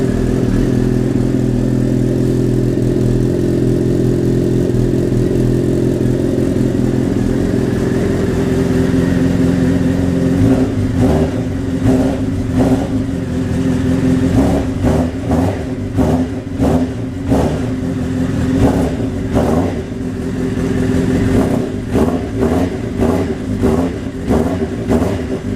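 A Honda CBR motorcycle engine idles steadily after a week unstarted, then from about ten seconds gets blipped repeatedly, sharp throttle revs rising and falling in quick bursts, loud and close with no talking.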